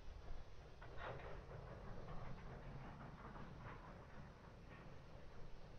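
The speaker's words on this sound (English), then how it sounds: "I can still hear train sounds." An SD40-2 diesel locomotive and train in the Train Sim 2016 video game on the Sherman Hill route, faint and distant, with a low rumble and soft rhythmic rail clatter rolling along continuously.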